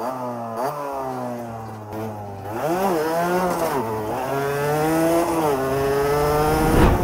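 A Rieju motorcycle engine revs and accelerates up close, pitch rising and falling through several surges before climbing steadily to a loud, high whine.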